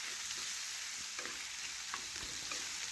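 Ground spices, including coriander powder, are stirred into fried pointed gourd, potato and carrot in a frying pan, making faint, soft scraping strokes over a low, steady sizzle.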